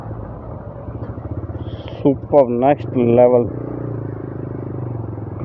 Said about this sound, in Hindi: बाइक एकदम मक्खन चल रही है, 5th गियर में है और काफ़ी अच्छा पिकअप